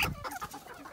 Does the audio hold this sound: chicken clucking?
yes